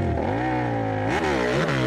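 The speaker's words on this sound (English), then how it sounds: "He's revving up, clicks it into second." A Harley-Davidson motorcycle at a hill climb competition revs loudly up close, its engine note holding steady and then swooping up and down in quick throttle blips.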